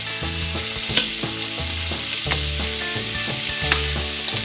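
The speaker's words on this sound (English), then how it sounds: "Now we're going to add your chicken, fry your chicken up in there, slam them in there." Chicken pieces fry in hot oil for a Cajun jambalaya, giving a loud, continuous close sizzle. Occasional clacks of stirring cut through the sizzle, and no one speaks.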